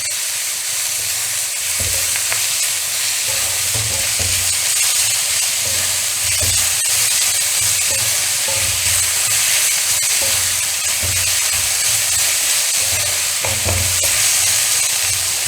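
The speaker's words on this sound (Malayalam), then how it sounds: "ഞാനൊരു കുറച്ച് വേപ്പില ചേർത്തിട്ടുണ്ട്. ഇത് ബ്രൗൺ കളർ ആകുന്നത് വരെ നന്നായിട്ട് ഇളക്കിക്കൊണ്ട് ഇരിക്കണം." Curry leaves sizzle steadily in hot oil in a pan, with a spoon scraping and stirring at intervals over the continuous fry, no voices.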